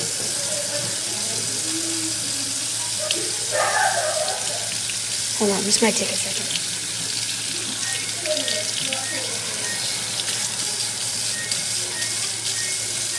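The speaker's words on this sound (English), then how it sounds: "I'm going to fill it with steaming hot water." A cup fills with steaming hot water running from a tap, a steady hiss and splash throughout with a few knocks and clinks, while a person talks briefly over it.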